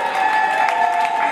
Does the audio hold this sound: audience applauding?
yes